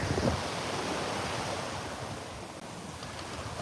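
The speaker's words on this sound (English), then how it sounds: "Check out this water breaking up the sand right here." Waves break and wash up onto a sandy shore in a steady, close, broadband roar with wind buffeting the microphone, and no voices over it.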